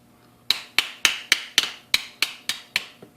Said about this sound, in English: maybe a little help from the hammer